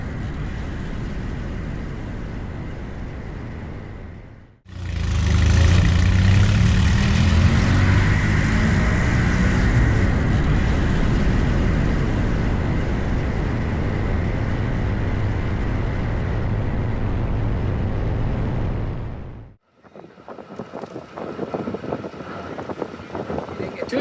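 Bonneville race car pulling out on the salt flats and running up through first, second and third gears, a loud sustained engine roar with rising tones and heavy wind buffeting, cutting off abruptly before faint distant noise returns.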